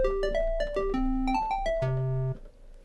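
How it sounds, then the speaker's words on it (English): A synthesizer square wave plays a quick melodic phrase of hollow, throaty notes with strong harmonics, closing on a low held tone before stopping, heard clearly with no other sound. "the next shape we're going to look at is called a square wave, and that sounds like this."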